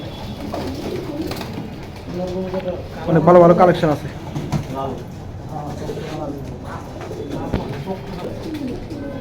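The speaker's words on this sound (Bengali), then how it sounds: "আচ্ছা দেখেন কবুতর" Pigeons coo in low, throaty bursts beneath steady conversation, with one louder cooing phrase standing out midway.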